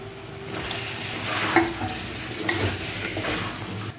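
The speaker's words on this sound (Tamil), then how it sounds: "இப்போ இது கூட நம்ம வெட்டி வச்சுருக்கிற உருளைக்கிழங்கு சேர்த்துக்குவோம்." Potatoes stirred and sautéed in a masala of onion and tomato in a pan, with a steady gentle sizzle and a few scraping, clinking spoon strokes against the pan, close by.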